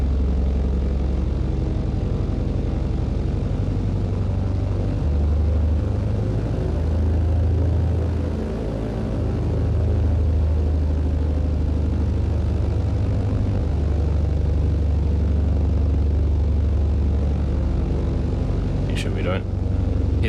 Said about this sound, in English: let's go ahead and taxi out to runway 11